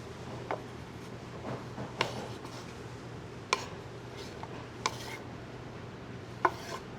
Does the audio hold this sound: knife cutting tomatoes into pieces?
yes